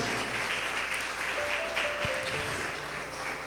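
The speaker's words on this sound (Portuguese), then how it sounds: "Posso ouvir uma salva de palmas para Jesus," A church congregation claps steadily together during a sermon, a full and even wash of applause with faint sung or voiced tones underneath.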